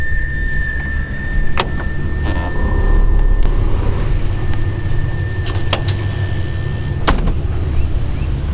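A 1948 Chevrolet Fleetline AeroSedan with its Blue Flame Six engine and air ride suspension idles steadily, a close, continuous low rumble with a few sharp clicks over it and no talk.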